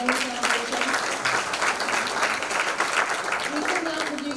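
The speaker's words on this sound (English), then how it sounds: "Let's give a round of applause to Hanley Foundation." A crowd at a live CEO round table event applauds, steady mass clapping for several seconds while a voice speaks over the top, the clapping holding a fairly even level throughout.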